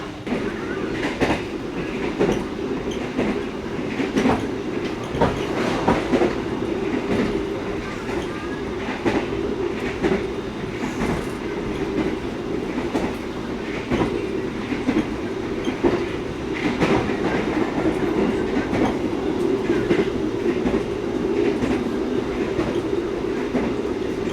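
The Jayakarta passenger train rolls along the track between Purwokerto and Yogyakarta with a steady rumble and repeated clickety-clack of wheels over rail joints, heard from inside, continuous and moderately loud.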